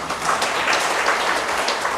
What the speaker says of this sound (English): You have to clap more.